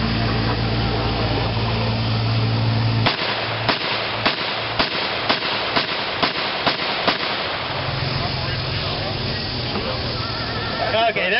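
A German MG 42 machine gun fitted with a blank firing adapter fires at an outdoor D-Day reenactment weapons demonstration. It gives about nine loud, sharp, evenly spaced reports, with a noisy crowd and background murmur before and after.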